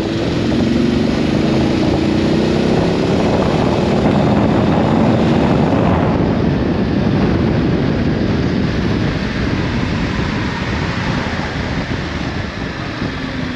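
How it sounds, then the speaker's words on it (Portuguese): BMW F 850 GS Adventure 2022 motorcycle pulling hard in fourth gear from about 48 km/h, a steady loud engine drone mixed with heavy wind rush, no voices. "deixa-me puxar aqui de quarta a 48 km/h"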